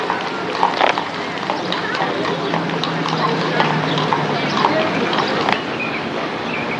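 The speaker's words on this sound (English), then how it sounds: "hear the clippity-clop coming down the street" Two horses with brass blinders pull a wagon down a street, their hooves clip-clopping in a steady rhythm at moderate distance against outdoor background noise.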